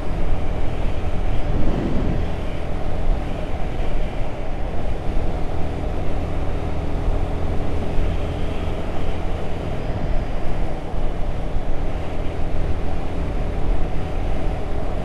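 Guerrilla 450 motorcycle engine running at around 5,000 rpm on the road, a steady loud drone with wind rush lasting throughout.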